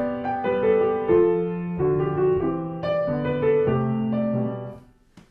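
Piano weaving together motives from pre-existing folk melodies in a pedagogical piece evoking Americana, a slow sequence of clear sustained notes and chords played solo and ending with a fading final tone.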